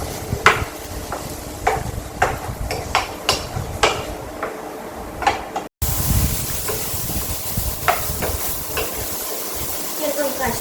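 Shamu datshi, a Bhutanese mushroom dish, being stirred and mixed in a pan, with a steady low sizzle beneath sharp, irregular clinks and scrapes of a utensil against the pan, close and fairly loud.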